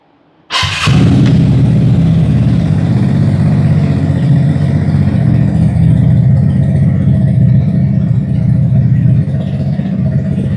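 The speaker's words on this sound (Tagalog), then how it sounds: "We'll do a sound check on the Thermi exhaust." A fully modified Vespa 946 Dragon scooter with a Thermi exhaust starts up close by and settles into a loud, steady engine drone that holds evenly for about ten seconds.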